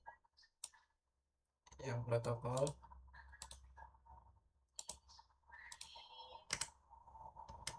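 The Enter key and other keys on a computer keyboard are pressed while show commands are run in Cisco Packet Tracer, sharp isolated clicks scattered among stretches of talking.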